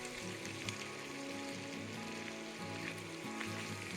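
Ground Sichuan peppercorns sizzling in hot oil for a tofu stir-fry, a quiet, even crackling hiss that continues under background music.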